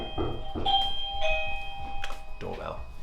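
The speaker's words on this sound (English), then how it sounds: "doorbell." A two-tone doorbell chime rings twice, bright and clear, while a person keeps talking underneath.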